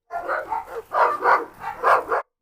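A dog at a meet-up of Rottweilers and Cane Corsos barks loudly and close by, giving three quick pairs of deep, gruff barks with short gaps between them and no talking.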